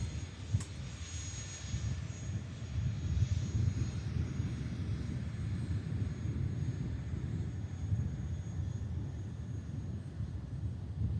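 An aircraft at Manchester Airport rumbles steadily in the distance, a continuous low engine roar with wind across the microphone and no voices.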